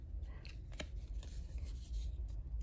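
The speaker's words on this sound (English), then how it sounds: "you could just simply make your tab with just a pair of scissors." Scissors snip through a scrap of paper to shape a page tab divider, a few close, crisp cuts with light rustling of the sheet.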